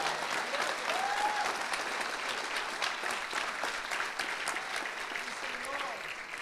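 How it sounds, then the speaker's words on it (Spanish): A church congregation applauds at length, steady crowded clapping filling the room with a voice heard faintly over it. "Dale un aplauso a la gloria de Dios."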